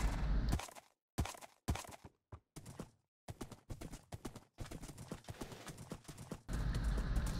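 Hooves of a horse ridden across a desert in Minecraft: sharp, close clip-clop footfalls in uneven bursts separated by short silences, then a steadier run of hoofbeats, with no talking.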